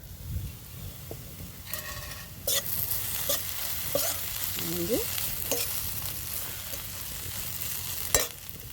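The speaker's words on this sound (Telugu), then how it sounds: "ఒక ఐదు నిమిషాలు వేగితే ఎర్రగా వేగిపోద్ది" Spiny gourd slices frying in a pan for a spicy Momordica dish, a steady close sizzle with intermittent stirring scrapes and a few louder clinks, no talking.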